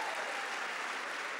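Steady applause from an audience at a concert for the band's guitarist, a dense wash of many clapping hands, even and fairly faint, heard alone.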